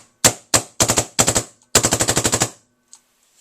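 A DLX Luxe paintball marker with a bent grip frame fires nearby: four sharp single pops, then a fast string of about ten shots, then one faint last pop before silence.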